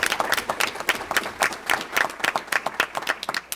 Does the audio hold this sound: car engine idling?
no